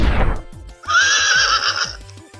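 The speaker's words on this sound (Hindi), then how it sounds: "ये घोड़े की आवाज है।" A single loud horse whinny rises and wavers for about a second, close and clear, after a brief rumble.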